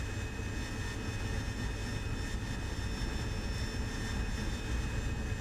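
An AV-8B Harrier jet roars off a carrier deck during takeoff in the DCS flight simulator, a loud, steady, dense engine roar that holds without a break for the whole stretch.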